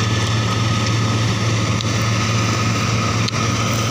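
A New Holland 3630 tractor engine runs steadily at close range while making straw, a loud continuous low drone with a constant hum and no talk.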